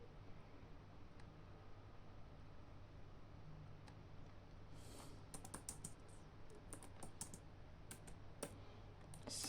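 Typing on a computer keyboard, heard as faint, close key clicks. They start sparse, then come in a quick, irregular burst of taps over a low steady hum.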